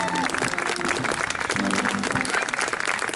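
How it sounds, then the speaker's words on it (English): A crowd at an outdoor Gordon Highlanders display at Beamish gives a round of applause for the mayor, a dense, loud spread of clapping that runs steadily throughout with faint voices mixed in. "I'll give them a round of applause for the mayor."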